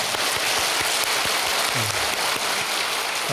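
A church congregation at a Wednesday prayer service applauds together, a dense, steady wash of many hands clapping that fills the space evenly at moderate volume, with no voices standing out.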